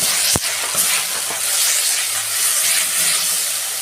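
Tomatoes sautéing in a pan for a Bengali bottle gourd and shrimp curry, giving a loud, continuous frying hiss and sizzle with one sharp clack near the start; close and steady, with no talking.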